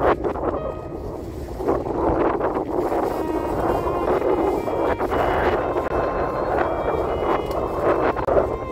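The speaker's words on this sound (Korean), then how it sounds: "완전 칼바람이에요." Strong cold wind roars steadily across the microphone on a small outboard fishing boat at sea off Tongyeong, with a constant blustery rush and faint water movement beneath, no talk.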